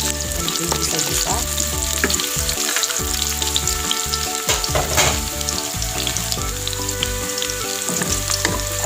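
Garlic and ginger sauté with chicken liver and gizzard for adobo in a hot pan, a steady close sizzle and crackle running throughout, with occasional stirring scrapes and no talking.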